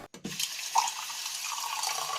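Water gushing from a tap as a sound effect, a steady splashing stream that starts after a brief pause and runs on evenly at moderate loudness.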